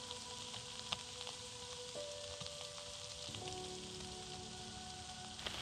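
Intense rain falling in a Central European forest during the red stag rut, a steady close hiss of drops with scattered sharper ticks and faint tonal sounds underneath, no voices.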